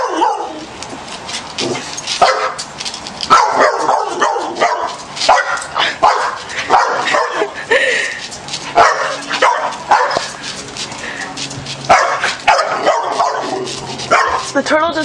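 A dog barks and yips repeatedly while a turtle chases it, the close, loud barking mixed with excited voices talking over it throughout.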